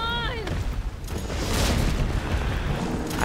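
A bazooka fires in the video game Resident Evil 3 Remake, a heavy booming blast with a long rumbling tail that fills the clip, loud and close, with game sounds mixed in and a voice talking at the start.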